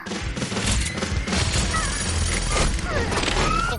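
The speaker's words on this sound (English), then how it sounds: "one of them is shot in the head" A gunshot in a movie action scene, with a dense crash of sharp impacts and a loud, chaotic mix of effects running right through.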